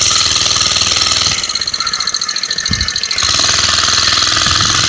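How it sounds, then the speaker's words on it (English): An old long-stroke small-piston motor, on a moped-type machine, runs loud and close with a rapid, rattling hammer-like beat, briefly easing in pitch and level before picking back up. "These old long stroke motors with the small piston got some down low torque"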